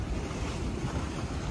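Strong wind and surf roar steadily around a sailboat sailing single-handed in about 20 knots of wind, with a reduced genoa; a continuous loud, close rush of water and wind buffeting the microphone, with no voices.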